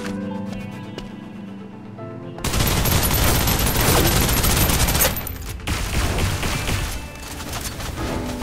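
Loud, sustained suppressive automatic gunfire in the shooter game Snowbreak: Containment Zone bursts in after a quiet musical lead-in, a dense continuous fusillade that carries on and slightly eases toward the end.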